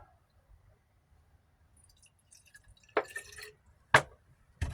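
Clean water splashes into a stockpot of gold-panning material, a few distinct pours and drips standing out over near silence.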